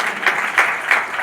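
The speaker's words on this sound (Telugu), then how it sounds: "కొట్టు చప్పట్లు గట్టిగా." A church congregation claps loudly during a worship service, with sharp, evenly spaced group claps about three times a second, close and full.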